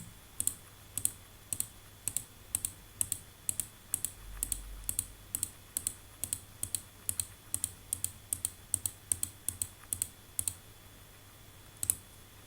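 A computer mouse clicks steadily while a polygon is drawn in QGIS mapping software, each sharp, close click falling about every half second over a quiet background, with no voices.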